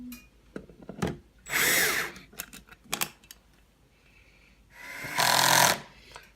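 A power drill with its torque set low drives screws into the lid of a Waterous foam system fire control box, sounding two close, loud whirring bursts with small clicks and handling knocks between them.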